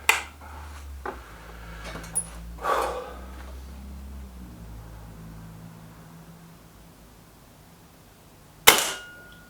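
A Kral Pro 500 air rifle fires a pellet, one sharp snapping crack near the end after several seconds of quiet handling noise and a few faint clicks.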